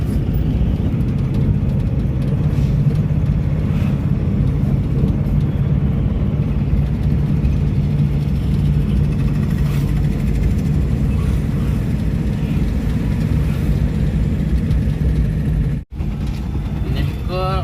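Steady, dense road traffic with a continuous engine rumble and vehicle noise close by on a jammed street, with people talking over it.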